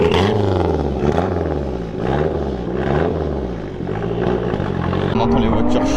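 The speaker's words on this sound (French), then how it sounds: "On entend les voitures chanter autour du lac." Racing and sports cars lapping around a lake at the Carburacoeur 2024 car event, loud engines roaring and swelling as they rise and fall in pitch, overlapping continuously close by.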